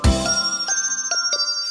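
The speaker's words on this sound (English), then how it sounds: "4 big bells. Ding, dong, ding." Big bells ring out with a bright, tinkling ding-dong in a children's counting song, several clear strikes in quick rhythm, loud and close with sustained ringing overtones.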